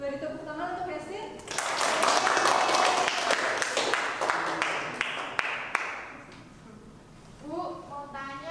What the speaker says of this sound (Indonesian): Beri tepuk tangan untuk Yasmin.